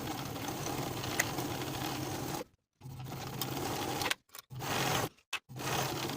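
A sewing machine runs steadily as the shoulder seams of an evening dress are sewn with a half-inch seam allowance. The buzzing is close and continuous, broken by a few brief stops, with no talk.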